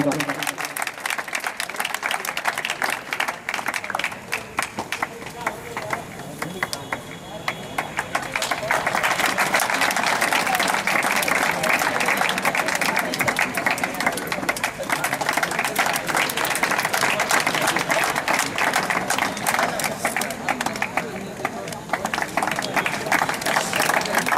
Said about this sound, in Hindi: तालियों से प्रोत्साहन बढ़ाइए हमारे सभी प्रथम वर्ष के छात्रों का